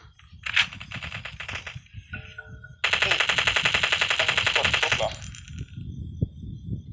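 Rapid automatic gunfire bursts from the survival video game Last Day Rules: Survival, with a short burst, a pause with a chime, then a longer sustained stream of shots over background hum and faint speech.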